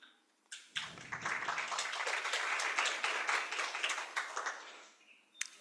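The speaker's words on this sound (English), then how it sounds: "So with a round of applause, let's kindly welcome him on stage." Audience applause at a global symposium as a deputy director general is welcomed on stage, rising after a quiet start, holding steady for several seconds, then tapering off; fairly faint and distant.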